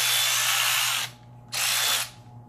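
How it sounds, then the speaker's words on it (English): Milwaukee M12 3/8-inch battery-powered ratchet runs in two bursts of high whirring, a longer one and then a shorter one after a brief pause, loud and close with no talking. "That's the new Milwaukee M12 3/8 inch ratchet. Battery powered."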